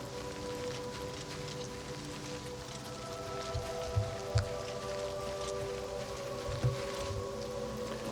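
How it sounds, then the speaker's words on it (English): Steady light rain in The Elder Scrolls IV: Oblivion Remastered patters on a surface, faint and continuous, with a few soft drips and a low ambient hum. "And it's raining again."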